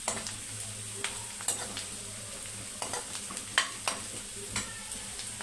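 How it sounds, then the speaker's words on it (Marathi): Onion sautéing in a pan for a Maharashtrian sandge curry: a soft continuous sizzle with repeated scraping stirs of a spatula against the pan at an uneven, unhurried pace. "कांदा चांगला मऊ होईपर्यंत आपल्याला भाजायचा आहे"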